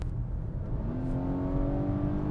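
A 2020 Volvo V60 Cross Country accelerates at full throttle, its engine note climbing steadily from inside the cabin, a moderately loud continuous rising whine with no talking.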